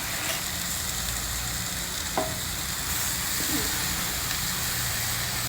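Chopped palak (spinach) leaves frying in a pan with softened tomatoes and spices give a steady, close sizzle with a couple of brief stirring clicks.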